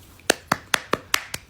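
Slow, deliberate hand claps, six or seven sharp and close, spaced evenly at a sarcastic, unenthusiastic pace in a quiet room.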